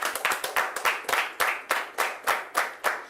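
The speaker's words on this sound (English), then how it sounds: "A round of applause for them, please." Applause from an audience at a televised accountancy quiz show in Nigeria, greeting the winning university teams: a small group clapping in brisk, slightly uneven bursts, fairly close and steady with no talk over it.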